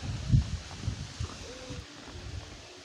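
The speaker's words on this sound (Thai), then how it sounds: "ลมกระโชก" Gusty cold-season wind blows across an open field where a 170 cm Thai Chula kite is being flown, heard as a low buffeting rumble against the microphone that swells early on and then eases into a softer, steady rush.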